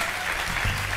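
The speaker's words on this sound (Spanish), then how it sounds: "un aplauso" Studio audience at a Spanish-language television program applauding, a brief dense burst of clapping heard up close with no pause.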